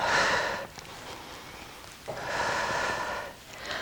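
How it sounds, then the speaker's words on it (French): Close, audible breathing from a gentle exercise class for seniors, two long rushing breaths separated by a brief pause, soft and steady with nobody speaking. "Inspire, expire. Inspire, expire. Inspire, expire."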